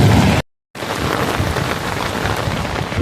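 Heavy rain falls in the Brazilian sertão during a thunderstorm, a dense, loud, steady hiss and patter interrupted by a brief cut to silence near the start.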